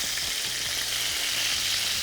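Paleo chicken thighs frying in a pan, a dense, even sizzle with steady crackle throughout, close and loud with no voices.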